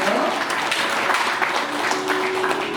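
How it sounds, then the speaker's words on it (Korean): Audience applause at a book launch celebration welcoming an invited guest, steady dense clapping from a crowd in an indoor hall, with a faint voice murmuring under it. "박수로 맞아주십시오"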